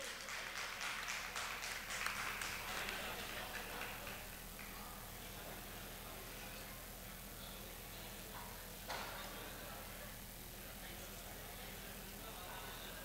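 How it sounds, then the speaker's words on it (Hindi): At an award ceremony honouring officers for the Amroha Mahotsav festival, an audience applauds the event host. The clapping is fairly faint and distant, strongest in the first few seconds before thinning into a low background murmur. "शिवान चौधरी जी को जोरदार तालियां इतने बढ़िया संचालन के लिए"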